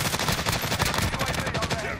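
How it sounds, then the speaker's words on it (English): Dense, continuous gunfire from a video game fills two seconds, a loud unbroken stream of rapid overlapping shots rather than a single sniper crack. "Oh, I got sniped."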